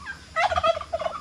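A turkey gives a brief, clear gobble close by on a rural farm. It comes as one quick warbling burst with a second shorter trill, and no talk is heard.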